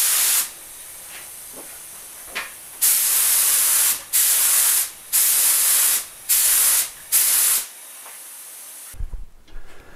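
Lacquer sprays in thick coats over a guitar headstock decal on a Blackguard Esquire restoration, a loud hissing airbrush in about six bursts of roughly a second each, separated by brief pauses, then stopping with faint handling noise.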